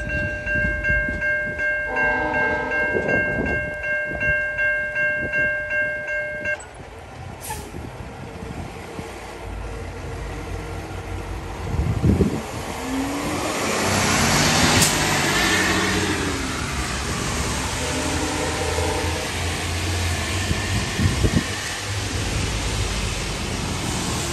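A train rolls past on the line toward Toronto's Union Station near Newmarket, starting with a long horn blast and then a loud, sustained rumble of wagons with squealing wheels that holds through to the end.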